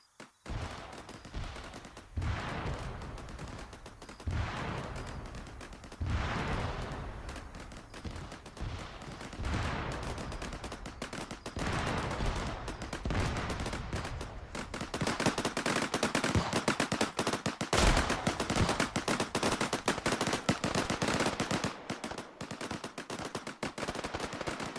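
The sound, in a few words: ammo caches detonating in Arma 3 video game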